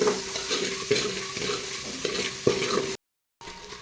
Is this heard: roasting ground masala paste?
yes